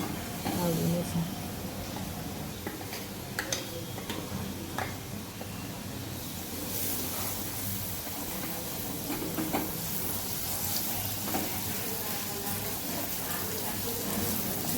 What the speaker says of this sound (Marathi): असे तेलामध्ये चांगले मसाले होऊ द्यायचे खूप 5 मिनिट